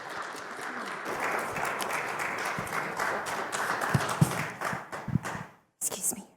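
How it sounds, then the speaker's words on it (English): A large audience gives a sustained round of applause welcoming panel speakers at a leadership panel event, dense clapping that holds steady before tapering into scattered claps and a brief pause. "Let's welcome them with a huge round of applause"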